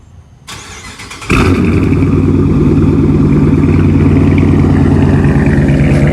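A Dodge Challenger R/T Shaker, not cold, starts with a brief crank and then catches into a loud, close, deep rumbling idle that holds steady.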